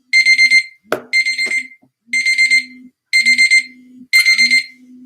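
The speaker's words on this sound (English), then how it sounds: "What alarm is that?" Loud electronic alarm beeping in repeated bursts of rapid tones with short gaps between, plus a low hum and a couple of clacks.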